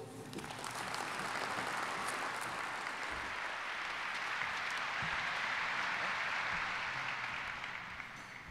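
Steady, moderately distant applause from an audience welcoming Long Beach Mayor Robert Garcia at the State of the Port event, even clapping that swells slightly and holds throughout.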